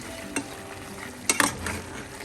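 Chicken pirattu sizzles gently in a pan while a spoon stirs it, with a soft clink and then a short burst of scraping and clattering against the pan.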